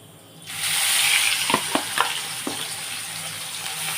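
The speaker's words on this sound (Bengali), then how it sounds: "এই নুন হলুদ দিয়ে চিংড়ি মাছটা আমি ভেজে রাখছি" Prawns coated in salt and turmeric hit hot oil and start to fry, a sudden rise into a steady sizzle with a few sharp pops, no voices.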